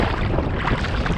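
Steady wind buffets the microphone while kayaking on a lake, a loud broadband rush with low rumbling gusts and no talk.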